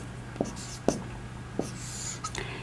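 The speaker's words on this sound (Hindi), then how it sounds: "ये मैं आपके पास एक पहले एग्जांपल लिख देता हूं।" Marker or chalk strokes writing a matrix example on a board during a Class 9 maths lesson, three or four short separate taps and scrapes, close and fairly faint with no talking.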